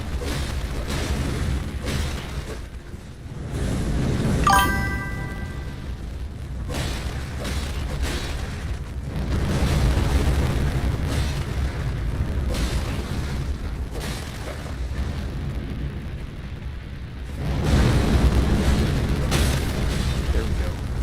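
A boss's double-foot jump in Elden Ring sets off heavy booming explosions, with a loud burst near the start and further deep rumbling blasts later, all over a dense, continuous game soundscape.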